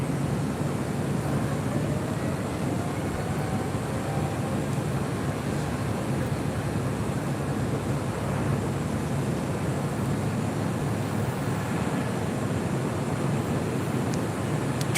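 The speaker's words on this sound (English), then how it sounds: "Dreamliner now rolling down" A Boeing 787 Dreamliner airliner rolls for takeoff on runway 25 right at LAX, a steady, broad roar of engine and airflow that holds at an even level throughout with no voices.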